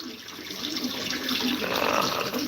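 Steady rushing water fills the whole stretch, a continuous broadband wash like a tap running or flowing stream, with no clear speech over it.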